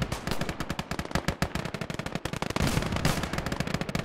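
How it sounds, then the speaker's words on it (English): An MG42 machine gun in the World War II strategy game Call to Arms fires from a bunker in long, rapid, continuous bursts, loud and close, with no talk. "The MG42 is in the bunker just shredding things."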